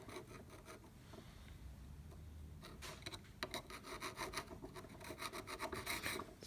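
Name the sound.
screwdriver scraping brass debris from a Pony vise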